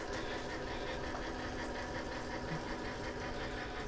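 Brushless motor of a Redcat Everest Gen 7 Pro RC crawler running steadily, a constant faint buzzing drone with a slightly knocking, tractor-like texture and no pauses.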